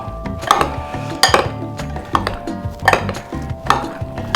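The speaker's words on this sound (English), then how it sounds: "And then, of course, mix everything in together." Bruschetta topping ingredients stirred together in a bowl, with a spoon repeatedly clattering and clinking against the sides in an uneven rhythm, close and fairly loud over a faint steady tonal background.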